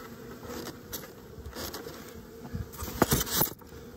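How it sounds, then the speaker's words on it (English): Dense, steady buzzing of many honeybees crowded inside a packed hive, heard up close as a continuous drone, swelling louder near the end with brief rustling bursts. "Packed right full of bees."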